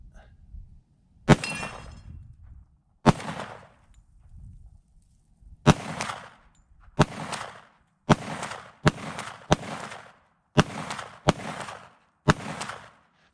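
Tisas 1911 Night Stalker 10mm pistol firing outdoors at night, about a dozen sharp loud shots, first a few spaced apart, then a quicker irregular string, each with a short echoing tail.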